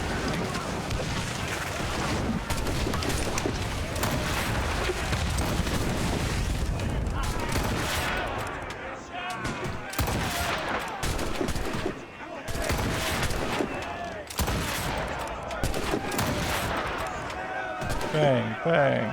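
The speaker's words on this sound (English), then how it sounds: "They are firing a volley!" An enemy ship fires a cannon volley in Assassin's Creed Rogue, a run of heavy booms and crackling shots in a naval battle, rolling and overlapping amid dense battle noise, with someone talking throughout.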